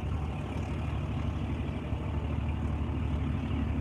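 A Dodge 3500 diesel truck engine rumbles steadily, heard through a window as a constant, low, throaty drone with no other sounds.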